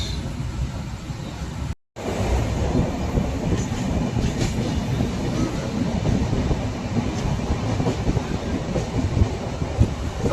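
A train running on rails, heard from inside a carriage as a loud continuous rumble and rattle with faint rhythmic clatter, briefly cut silent near the start and then steady to the end.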